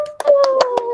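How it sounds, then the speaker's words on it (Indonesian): Several people clap in a classroom lesson, a quick burst of about five or six sharp claps in one second, heard close and loud alongside a voice. "Tepuk tangan buat kita semua."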